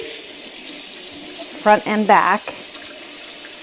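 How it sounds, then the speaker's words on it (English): Tap water runs briefly in a sink to rinse a part from a Harvest Right freeze dryer, with short splashing bursts close by and someone speaking briefly. "I'm just going to give that a rinse"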